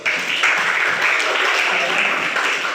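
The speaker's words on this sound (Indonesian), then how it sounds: "Saya tepuk tangan buat Ros." Students in a classroom clap together in a loud, dense, continuous burst that holds steady and close for almost three seconds.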